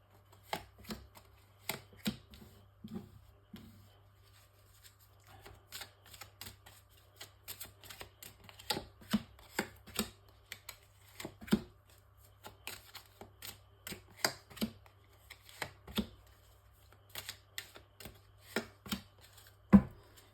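Tarot cards shuffled by hand for a nine-card spread, giving a long run of quiet, irregular crisp snaps and taps close by with a faint steady hum behind them.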